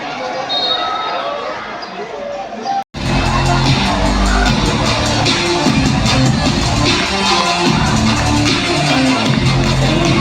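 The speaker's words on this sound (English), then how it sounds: "Let's give a round of applause, ladies and gentlemen, for all the dignitaries and the players." A stadium crowd at a Durand Cup football semifinal between Shillong Lajong FC and Indian Navy applauds dignitaries and players, a loud, dense roar of clapping and cheering that swells after a brief drop and holds steady throughout.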